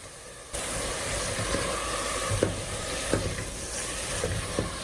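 Chopped tomatoes hit a hot oiled pan for yellow lentil curry, setting off a sudden steady sizzle after a quiet start, with a few soft scrape and stir taps along the way, close and moderate.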